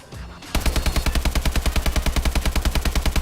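AK-12 assault rifle from Call of Duty: Advanced Warfare firing a sustained full-auto burst, loud, close, rapid and evenly spaced shots with a deep punch, after a brief low rumble at the start.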